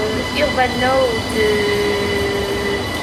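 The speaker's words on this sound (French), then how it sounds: "il y a des trains qui passent derrière moi" Trains pass close behind a person speaking outdoors, with a sustained metallic wheel squeal and steady rail rumble running through the whole stretch under the voice.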